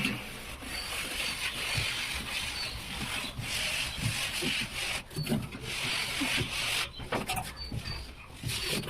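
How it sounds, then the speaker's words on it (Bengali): Continuous rough scraping and rubbing of plaster being worked on walls inside a temple under construction, with a steady gritty texture and a few sharper knocks, close and moderately loud. "মন্দিরের ভিতরে প্লাস্টার হচ্ছে।"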